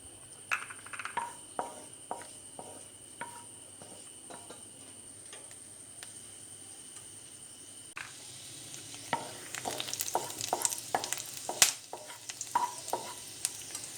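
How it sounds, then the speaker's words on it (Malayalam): Chopped garlic frying in a pan for vegetable soup, a faint steady sizzle with sparse clicking ticks that thicken into denser crackling and light spoon scrapes partway through. "വെളുത്തുള്ളി ജസ്റ്റ് ഒന്ന് മൂത്ത് വന്നാൽ മതി"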